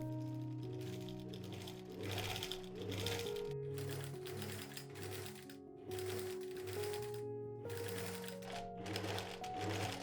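A sewing machine stitches boning channels into the stays of a yellow gown's foundation, giving a faint, steady rapid patter beneath sustained background music.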